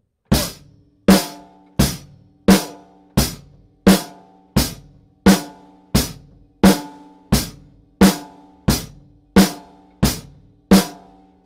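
Drum kit keeping a steady quarter-note beat, sixteen evenly spaced hits with ringing decay, loud and close, with no talking over it.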